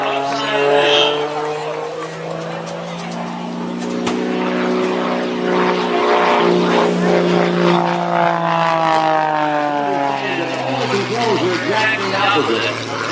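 An aerobatic propeller airplane at an airshow roars past close and loud, its engine drone rising then sliding down in pitch as it passes, with an announcer talking over the sound.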